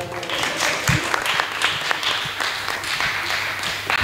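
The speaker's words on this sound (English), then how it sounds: "Give yourselves a round of applause." A lecture audience claps for themselves, a loose, uneven round of close hand claps with individual slaps standing out, no speech over it.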